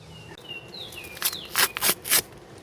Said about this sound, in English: Oh, the birds are chirping.